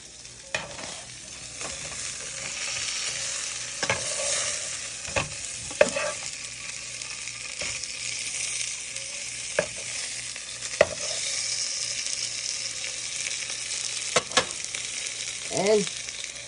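Tri-tip steaks fry steadily in a hot pan with a continuous sizzle. Scattered scrapes and clinks of stirring and flipping cut through the sizzle throughout.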